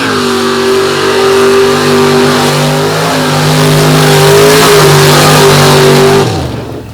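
An S10 drag race car with leaf spring suspension launches hard at a drag strip, its engine roaring loud and close at full throttle for about six seconds before cutting off abruptly.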